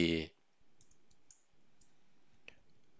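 Keys on a computer keyboard are typed in a short burst of soft, close clicks while a part number is searched in Altium Designer, with a brief voice at the very start.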